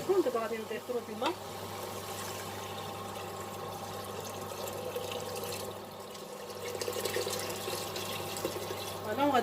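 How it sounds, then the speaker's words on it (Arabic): Water runs into a pot of barley semolina on the stove, a steady pour and gurgle close by, with a steady hum underneath and a person speaking in places. "دابا غادي نضيفوا الماء"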